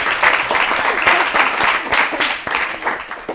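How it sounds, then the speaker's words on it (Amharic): Audience applause for a student on an Ethiopian children's TV program, dense close clapping that swells and dips in waves throughout. "አጨብጭቡላት"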